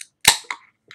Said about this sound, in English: That was the sound of Coca-Cola.